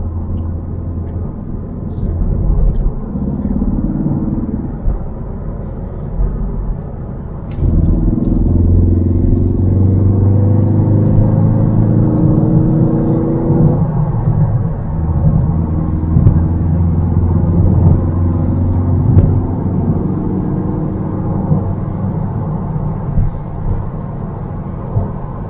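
Steady, loud engine rumble and road noise from inside a Ford Focus ST Mk4 driving on a wet road, a continuous drone with a brief dip and surge in engine tone partway through.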